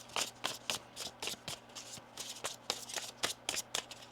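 Tarot cards are shuffled up close, a quick series of soft papery riffles and slaps in an uneven rhythm, with no one speaking.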